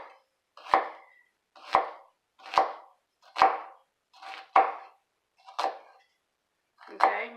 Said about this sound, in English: you're going to run your knife down, and you're going to basically make slices up until that 1/4 inch mark